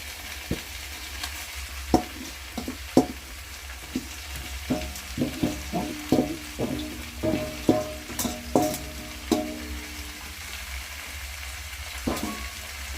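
Okra frying in a pan and being stirred, with a soft, steady sizzle under a run of irregular scraping and clattering stir strokes, close by and moderately quiet.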